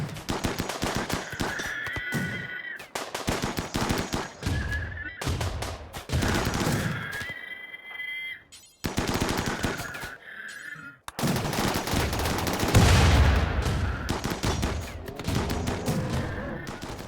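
Rapid bursts of gunfire in the colony video game RimWorld, sharp volleys of shots clustered in dense groups with short pauses between them, loud and repeated throughout, with shrill whinny-like tones mixed in.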